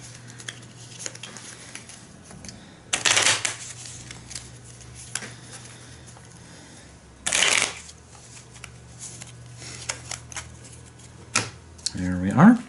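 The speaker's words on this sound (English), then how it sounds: "And then I shuffle all 3 of these back into the deck." Cards from a solo tabletop card game are shuffled back into a deck in two distinct bursts of riffling, close and crisp, between quieter table handling sounds.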